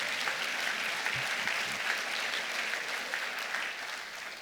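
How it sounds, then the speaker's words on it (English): Audience at a university convocation applauding steadily, a dense, sustained wash of clapping from a large crowd that holds even throughout and tapers only slightly at the end, with no talking. "you may be moved to applause"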